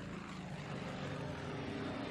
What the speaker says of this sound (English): Airplanes. Yes, might be nice to fly them occasionally.